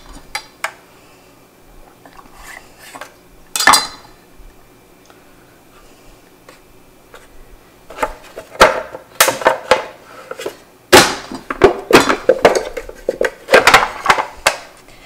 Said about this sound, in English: So I'm going to get all these eggs chopped up